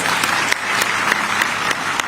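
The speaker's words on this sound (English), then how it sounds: "Can you please celebrate him with a round of applause?" A crowd applauds during a national address by Raila Odinga, giving a steady, loud clatter of many hands that holds evenly throughout without any voices on top.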